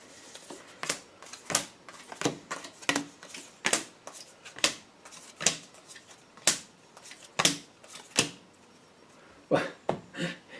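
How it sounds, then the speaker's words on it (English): Tarot cards being set down one after another on a table, a steady series of crisp snaps and slaps with short pauses between, close and fairly loud with no talk. "we're going to put your tarot cards out here"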